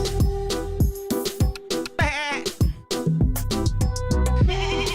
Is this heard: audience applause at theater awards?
no